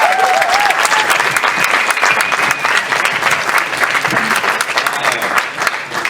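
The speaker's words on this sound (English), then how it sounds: "thank you so much for the unearned applause" A comedy-show audience applauds a comedian with loud, dense, continuous clapping that stays steady for the full six seconds, with a few whoops and crowd voices mixed in.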